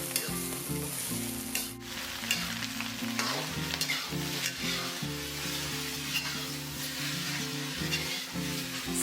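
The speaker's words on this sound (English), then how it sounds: "Stir fry until the noodles are fragrant." Rice vermicelli noodles with fish sauce being stir-fried in a wok, a loud continuous sizzle with a spatula scraping and tossing in a busy rhythm, close and without voices.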